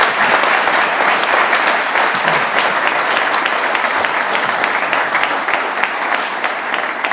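An audience at a high school athletic Hall of Fame induction ceremony gives inductees a warm, sustained round of applause, dense clapping from a sizable indoor crowd.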